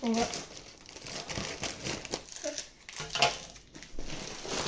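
Plastic packaging crinkles and rustles close by as a large Temu parcel is unwrapped, with irregular crackling bursts throughout and a voice speaking over parts of it.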